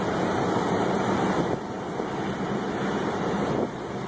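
Strong wind from a nearby tornado roars steadily and loudly into the microphone, a dense rushing buffet that eases slightly partway through and carries on alone without voices.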